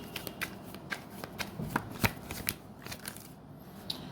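Tarot cards are shuffled by hand in a quick series of crisp riffling snaps and soft slaps, close and quiet, with no speech.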